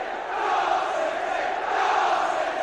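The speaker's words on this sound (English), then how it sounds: "the crowd at the Kop end louder than at any stage this afternoon" A football crowd roars at the Kop end during a Premier League match, a continuous, swelling wall of massed voices heard from a distance with no single caller standing out.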